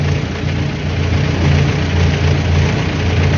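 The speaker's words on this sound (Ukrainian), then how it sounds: "Дивіться, на холостому ходу." A Lviv forklift engine idles with a loud, steady, low rumble and a faint knocking pulse, continuous and close.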